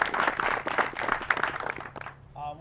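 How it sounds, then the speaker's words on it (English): Applause for Mr. Gardner at an outdoor ribbon cutting ceremony for the McDowell County shooting range, a short burst of scattered clapping from a modest crowd that fades out within two seconds. "Let's give him a round of applause."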